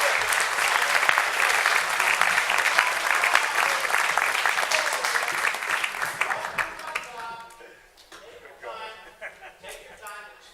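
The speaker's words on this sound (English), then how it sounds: "Keep the applause going." Audience applause fills the room loudly and steadily for about seven seconds, then thins into scattered claps and chatter as it fades toward the end.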